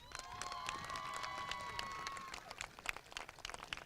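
An audience at a school champions recognition event for Bridgeton High School gives steady applause mixed with scattered cheers, thinning toward the end.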